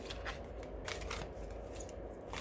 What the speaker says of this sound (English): These cards are always so hard to shuffle.